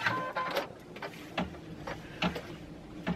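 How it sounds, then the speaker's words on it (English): Home embroidery machine stitching a placement line on a hooped luggage tag, a faint, regular ticking and whirring with repeated sharp clicks roughly every second. "The first thing I'm going to do is stitch out a placement line."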